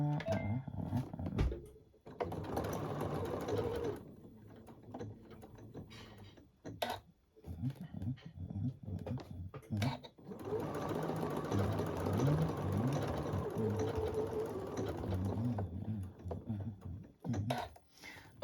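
A sewing machine stitches fabric for a small table runner in two steady whirring runs, a short one and then a longer one, separated by pauses with quiet handling clicks.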